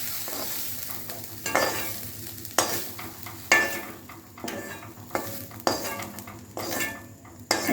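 Coconut fries in a pan while a metal spoon stirs it, giving repeated scraping and clanking strokes over a low sizzle. The strokes come roughly every second and sound close and clear, with no speech.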